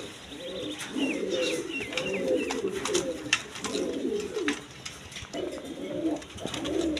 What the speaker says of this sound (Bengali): এক পেয়ার ইন্দোনেশিয়ান কালার ড্যানিশ কবুতর আছে।